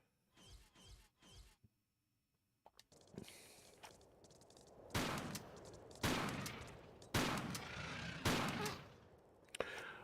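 Shotgun blasts in Tomb Raider IV Remastered, several loud separate booming shots spaced about a second apart, each with a decaying tail, following a few quieter thumps and a short silent gap.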